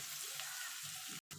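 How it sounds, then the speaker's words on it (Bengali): Ginger frying in a pan over low heat while being stirred, a steady close sizzle with soft scraping, cut by a brief silent gap near the end. "দিয়ে এগুলো মিনিট খানিক মতো একটুখানি নাড়াচাড়া করে নেব।"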